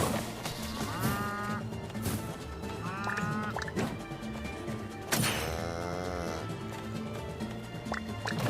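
Cows in the video game Town of Zoz moo repeatedly, loud drawn-out lowing calls amid thumps and splashy game sounds.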